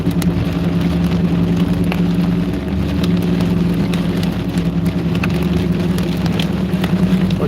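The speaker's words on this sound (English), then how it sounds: "What you're hearing out there is pea-sized hail." Pea-sized hail falls steadily outside a storm chaser's vehicle on an Oklahoma highway, a continuous dense patter drumming on the car under a low engine or road rumble, with no talk.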